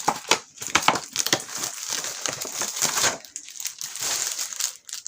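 Plastic packaging for a diamond painting sock kit being opened up close, with repeated crinkling and crushing rustles in bursts, loud at first and then a steadier softer crackle.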